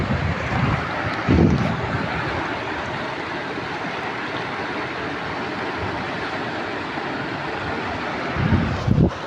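Fast, rushing floodwater of a swollen river pours past in a steady, broadband roar, close and continuous, with wind buffeting the microphone in a few brief gusts and no voices.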